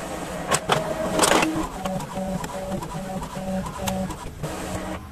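A home printer feeds and prints a page of A6 binder refill paper, a close mechanical whirring with a regular pattern of short pulsing motor tones and clicks and a few louder rattles, with no talking.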